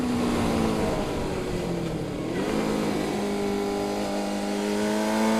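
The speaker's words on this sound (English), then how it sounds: "And the engine is very revvy." A Kawasaki Zephyr 550 motorcycle engine revs hard, its pitch sliding down and then climbing again in smooth sweeps, loud and close with no voices over it.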